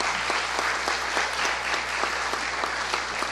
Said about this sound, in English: I'd like to have a round of applause, please,